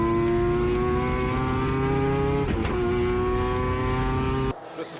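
A race car engine held at a hard, steady high rev on a fast lap, a strong harmonic whine with a brief stutter midway before dropping off abruptly near the end.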